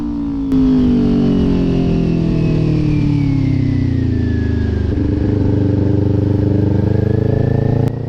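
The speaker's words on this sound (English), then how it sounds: "I love the Leo Vince exhaust on this bike. It just sounds so deep and throaty." Kawasaki Ninja 400 motorcycle with a Leo Vince exhaust, close and loud as the engine drones and pulls steadily through a long acceleration, pitch rising and shifting on a summer road, with steady wind rush and no talking.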